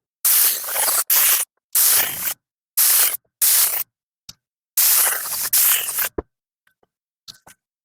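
Aerosol adhesive sprayed onto 1/4 inch scrim backing for SUV bench seat upholstery, heard as several loud hissing bursts of a second or so each with short gaps, followed by a few faint taps.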